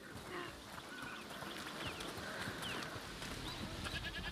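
Several goats bleat intermittently over a faint, steady background hum, fairly quiet and somewhat distant, in the video game A Plague Tale: Requiem.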